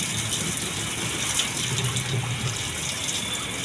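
Water gushes hard from a faucet driven by a newly installed booster pump, a steady, loud, close rushing hiss with no talking.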